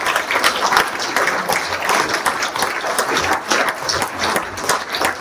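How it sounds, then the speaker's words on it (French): Crowd at a New Year's greetings ceremony applauds police and rescue services, a dense, sustained clapping that fills the room steadily for several seconds with no pause. "Je veux vraiment qu'on les applaudisse très très fort."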